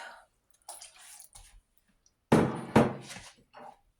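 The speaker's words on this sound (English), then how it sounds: "let's put about 1/4 cup more water in there" Water is poured into a pot of potato soup in a home kitchen in two close, splashing bursts, after some quieter handling sounds.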